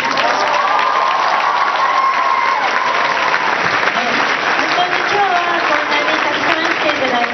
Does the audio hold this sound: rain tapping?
no